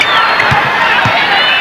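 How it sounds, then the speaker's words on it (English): Basketball arena crowd hooting and hollering during a 1996 NBA game against the Milwaukee Bucks, a loud continuous roar of cheering with whistles and shouts rising from the stands. "Crowd starting to do its job too. They're hooting and hollering now."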